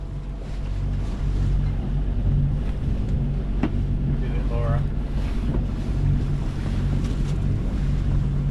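Sea waves wash and surge around a sailing boat on the Irish Sea near Land's End, a steady broad rush with wind buffeting the microphone and faint bird-like squeaks mid-clip.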